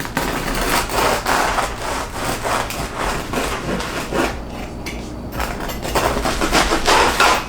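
A knife saws through a crusty homemade sourdough loaf in a series of rhythmic, crunchy strokes, loud and close, with a brief lull before the cutting resumes.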